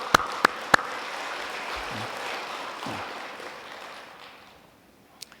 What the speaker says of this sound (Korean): 여기 계신 우리 선배님들 위해서 박수를 한번 보내겠습니다